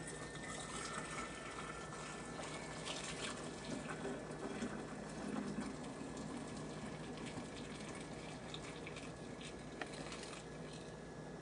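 Boiled wort pours from the brew pot into a container at a kitchen sink, a faint, steady gush and trickle of liquid running continuously with no talk over it.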